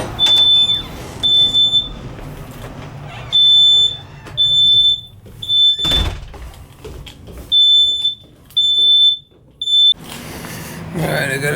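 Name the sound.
smoke alarm beeping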